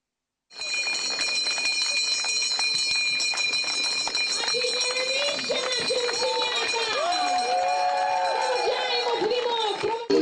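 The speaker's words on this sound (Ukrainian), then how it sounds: "Сьогодні шкільний дзвінок востаннє пролунав для понад сотні учнів обласного ліцею інтернату." A school bell rings steadily and loudly at a last-bell ceremony for graduating students of a regional boarding lyceum, with a crowd of students and voices audible around it for the whole stretch.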